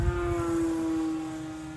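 A balsa RC Cessna model plane with an APC propeller flying overhead, a steady high propeller whine holding one pitch with a slight vibration, then fading a little as it passes.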